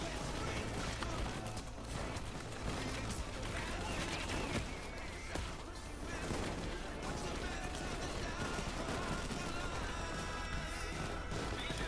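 Turret gunfire rattles continuously during a heist in the video game Payday 2, dense and loud with crashes and impacts mixed in, while players talk over the chaos.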